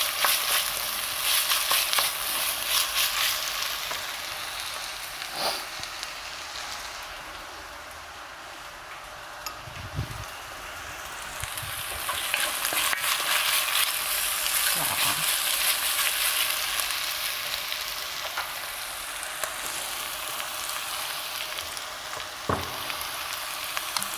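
Onions fry in a pan with a steady, close sizzle that runs throughout, broken by occasional scrapes and clicks from stirring.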